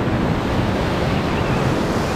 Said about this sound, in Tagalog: Malakas yung alon niya.